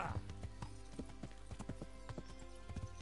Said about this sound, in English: Red Dead Redemption is open to whistle for your horse, so that feels good.